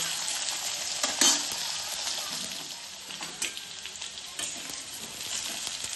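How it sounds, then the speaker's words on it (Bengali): Potatoes, tossed in after black cumin seeds, sizzle steadily in hot oil in a pan, with occasional scraping stirs and a brief clink of the utensil, close and without talk. "আলুগুলো একটু ভেজে নেব"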